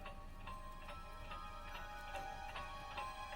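Clock ticking in a quiet room in the Wizard101 game, with sharp, evenly spaced ticks about twice a second over a faint background hum.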